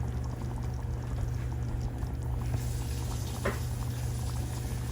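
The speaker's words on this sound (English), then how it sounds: "See it bubbling?" Spaghetti sauce with ground chuck, meatballs and bell pepper bubbling in a pot, a constant low gurgling simmer over a steady hum, with one brief sharper pop.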